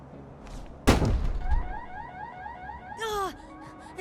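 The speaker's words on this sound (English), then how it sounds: "Is that the alarm?" A car alarm in the game Dustborn starts after a heavy thunk, wailing in a rising and falling pattern, then breaks into a sharper tone near the end.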